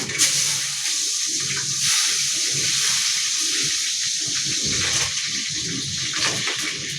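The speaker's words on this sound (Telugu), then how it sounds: "నూనె వేడెక్కింది. మష్రూమ్ పలావ్కి నూనె వేడెక్కిందండి. ఎర్రగడ్డలు వేస్తున్నాము." Sliced onions go into hot oil for mushroom pulao, setting off a steady, close sizzling hiss that carries through the whole stretch, with soft lower rumbles underneath.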